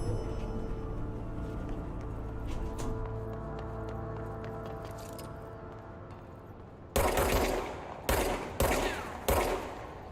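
Gunfire in the video game Control: a run of sharp, loud bursts in the last few seconds, following a stretch of quieter game ambience and rumble, no voices.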